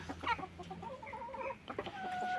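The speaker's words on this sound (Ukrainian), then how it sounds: "Це в мене старі кури і петухи" Hens and roosters clucking close by, a run of short throaty clucks and murmurs with a few higher squawks, steady and uninterrupted.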